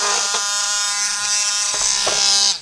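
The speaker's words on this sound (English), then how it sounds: "I'm just going to gently go around here and take any burrs off because we want that to be airtight" A tool deburring the edge of a vacuum chamber for resin casting makes a loud, continuous, close buzzing whine that holds steady throughout, with faint knocks underneath.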